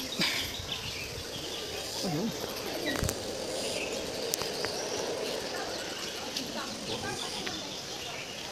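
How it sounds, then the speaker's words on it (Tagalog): Birds chirp and call at a parrot sanctuary on a farm in Hong Kong amid a dense, busy outdoor background with insects buzzing, mixed with faint voices. "Yung mga tunog ng ibon oh"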